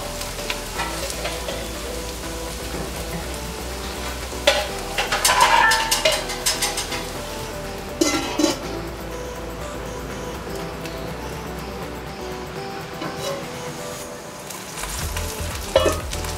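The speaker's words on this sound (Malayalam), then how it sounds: "സവാള, ഇഞ്ചിയും വെളുത്തുള്ളിയും പച്ചമുളകും എല്ലാം നന്നായിട്ട് വഴന്നു വന്നിട്ടുണ്ട്" Onion, ginger, garlic and green chilli sauté in a pan over a low flame for a Kerala chicken curry, giving a steady close sizzle and crackle with occasional stirring scrapes throughout.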